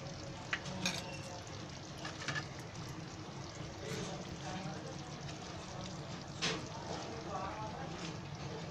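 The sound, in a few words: lemon chicken gravy being stirred in pan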